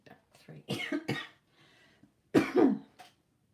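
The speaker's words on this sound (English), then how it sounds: "still got my cough after my cold" A person coughing several times in short, harsh bursts with a throat-clearing sound, close and fairly quiet, in two clusters separated by a brief pause.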